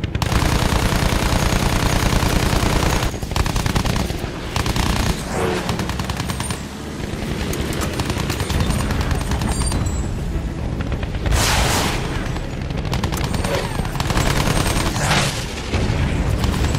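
Loud, sustained machine-gun and rifle fire in a Battlefield 1 battle against German troops, dense rapid bursts nearly continuous throughout, with heavy booms and short lulls between volleys.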